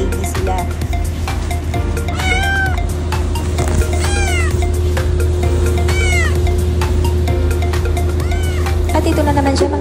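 A domestic cat meows repeatedly in rising and falling cries around the time of giving birth, loud and close over a steady low mechanical hum, with faint talk in the background.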